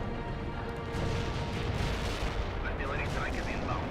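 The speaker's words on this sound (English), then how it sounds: "Artillery strike is inbound." Artillery strike in the World in Conflict war game: heavy, continuous rumbling barrage of booming impacts, loud and dense throughout, with battlefield noise mixed in.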